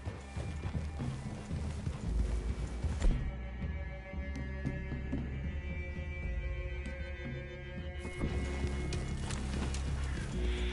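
Horse hooves clip-clop steadily in Red Dead Redemption 2, several riders moving together at close range, mixed with a continuous droning musical bed that briefly thins in the middle.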